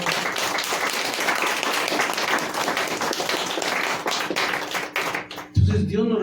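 A church congregation gives sustained applause, dense clapping from many hands filling the room at steady loudness, ending with a brief louder burst of sound at the close.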